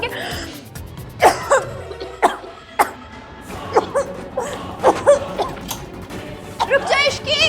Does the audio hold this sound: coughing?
yes